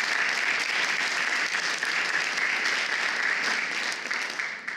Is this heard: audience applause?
yes